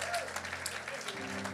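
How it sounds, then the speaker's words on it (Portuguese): Church congregation applauding for Batalha at a sermon, dense steady clapping from a crowd filling the short moment, with a voice briefly over it. "Um forte aplauso ao Batalha, gente."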